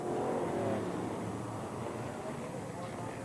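BriSCA Formula 1 stock cars race down the straight at Skegness in 1987, a dense rumbling engine roar from the pack heard at a distance, with a commentator talking over it.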